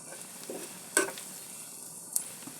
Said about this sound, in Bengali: পেঁয়াজটা আমি কড়া করে ভাজবো না হয়ে গেছে আমার পেঁয়াজ ভাজি হয়ে গেছে